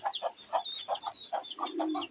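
A broody hen clucks in a steady series of short, close clucks, with a few higher chirps and a low grunt near the end.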